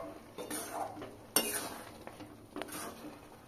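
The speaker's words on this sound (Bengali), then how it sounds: "নাড়তে নাড়তে দেখুন ঘন হয়ে এসেছে।" A spoon scrapes and clanks against a wok while a thickening raw mango mixture is stirred, with soft, irregular scraping strokes, one sharper metallic knock, and faint sizzling in a quiet kitchen.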